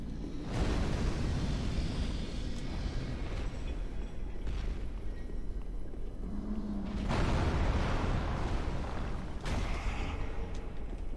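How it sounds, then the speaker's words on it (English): Exploding bolt in Dark Souls III, a series of deep booming blasts with rumbling debris, loudest bursts near the middle and end, no talking. "Exploding bolt."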